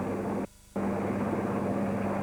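Helicopter rotor and engine drone, steady and continuous, from a chopper lifting a giant air conditioning unit off a block of flats; the hum briefly dips before resuming at full level.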